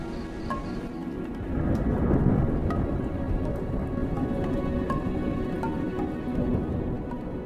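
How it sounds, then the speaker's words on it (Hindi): Deep thunder rolls and rumbles over steady falling rain on an African savanna where wildebeest graze, with scattered sharper drops and faint insect sounds in the background. "विल्डेबीस्ट इतने अनुभवी हैं कि गड़गड़ाहट की आवाज के बाद क्या होगा वो जानते हैं।"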